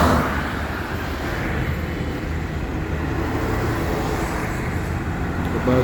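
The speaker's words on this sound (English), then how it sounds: "The bus that just went past me was one of the mass transportations we have in Ghana." A city bus passing on Independence Avenue in central Accra, Ghana, a continuous engine and road rumble mixed into steady traffic noise, fairly loud and close, with no talk.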